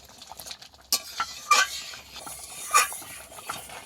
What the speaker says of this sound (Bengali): খুনতে দিয়ে একটু লেড়ে দিলে ডাল ঘেঁটে যাবে